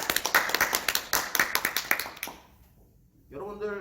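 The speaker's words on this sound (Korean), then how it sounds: "우리 한번 박수 한번 다 같이 치겠습니다" An audience clapping together at a sales talk, a couple of seconds of many hands in brisk, uneven applause that quickly dies away, after which a voice begins speaking.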